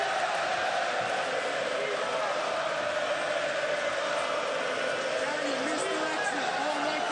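Steady roar of a large arena crowd at a Bellator MMA event, a dense continuous wash of cheering and chatter held at even loudness throughout, with no single voice standing out.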